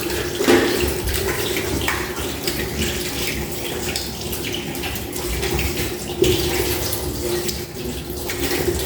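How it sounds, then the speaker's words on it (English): Water runs steadily from a kitchen tap while hands are rinsed. The hiss is close and continuous, with slight splashing changes throughout. "So I'm just going to give my hand a little rinse off."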